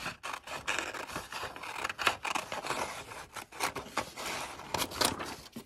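Scissors cut a vintage magazine page, a close, quiet run of crisp snips and papery scraping with irregular rhythm and no talk.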